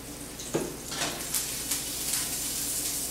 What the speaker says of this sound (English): Hear the sounds, hear that sound, that little sizzle sound?